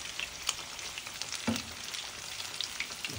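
Pieces of chicken fry in hot oil with a continuous close crackling sizzle, sprinkled with small sharp pops and spatters.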